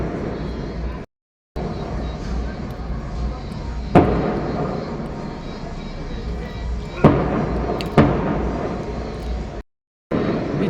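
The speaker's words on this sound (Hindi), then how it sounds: "देखिए, मैं आपको दिखाती हूँ आतिशबाजी।" Outdoor fireworks at a wedding celebration in Jaipur, a continuous roar of crackling with several louder bangs standing out, heard from a distance.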